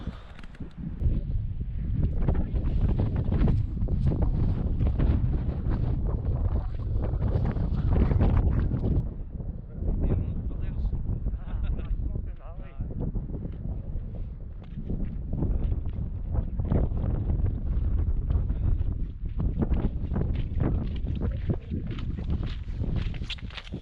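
Cold wind buffets a Scottish mountainside in Glen Lyon on a sunny day, a constant loud low roar and rumble against the microphone that swells and eases in gusts. There may be faint footfalls on boggy ground underneath.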